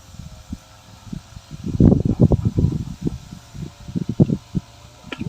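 An eight-day fermented organic solution fizzes and bubbles inside a shaken container, a close, continuous crackling stream of tiny pops that swells in the middle and sounds like a flowing river.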